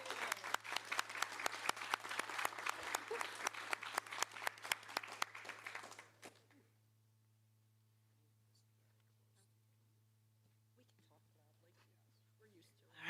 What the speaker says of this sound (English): Another round of applause for Jaden.